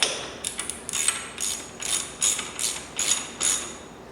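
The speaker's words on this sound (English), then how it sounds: "switch it to the socket and tighten it up" Socket wrench ratcheting as a motorcycle frame slider post is tightened on a Yamaha R3: about seven short, bright clicking bursts in a steady rhythm, close and clear with no talk.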